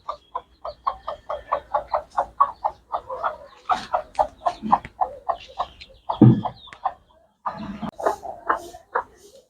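A rooster clucks close by in a fast, steady series of short calls, with a few louder squawks mixed in and brief pauses.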